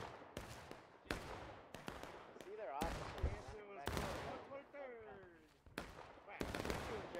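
Musket volleys in War of Rights, a Civil War multiplayer game: repeated sharp cracks and rolling bursts of gunfire, some close and some distant, arriving in irregular clusters while voices shout between them.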